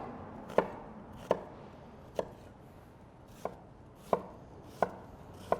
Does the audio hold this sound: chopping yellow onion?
yes